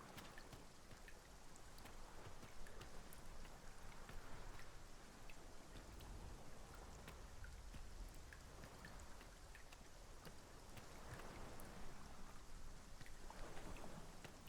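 Rain falls steadily in Dragon's Dogma 2, a soft, dense patter of drops on surfaces with faint low rumbles beneath, quiet and continuous throughout.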